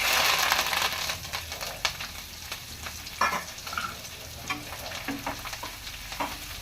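Coriander leaves fry and sizzle in a pan with a steady crackling hiss, while occasional scrapes and stirring knocks come through close up.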